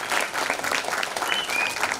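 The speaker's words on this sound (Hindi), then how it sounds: "और जोर से तालियां हो एक बार" An audience claps steadily after a stage performance at a formal event, a dense, continuous round of applause filling the room without letup.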